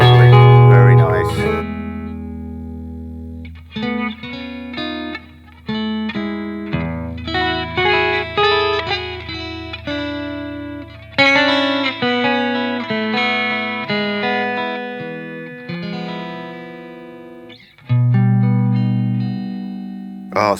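Electric guitar chords played through a Victory MK overdrive pedal, ringing strummed chords with sustained decays and gaps between phrases, loud and close, with no talk over the playing.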